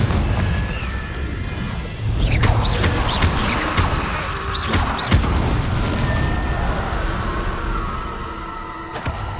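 Confringo spell blasts in Hogwarts Legacy, several sharp booming bursts with crackling debris over a dense, rumbling game soundscape, close and loud.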